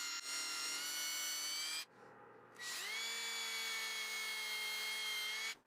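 A power drill bores holes in wood for a table saw jig, two loud steady whining runs split by a brief pause as the bit slows and spins back up.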